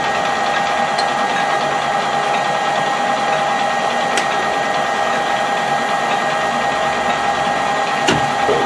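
A metal lathe screw-cutting an adapter for a wood lathe chuck, turning at 350 rpm with a fine feed, gives a steady droning whir with a constant tone, joined by a couple of brief sharp ticks.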